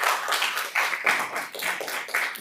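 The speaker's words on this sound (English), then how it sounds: "Yes, clap for that." A small audience at a school board meeting claps briefly, uneven bursts of hand claps spread over a couple of seconds, moderately loud and fairly close, with no talk over it.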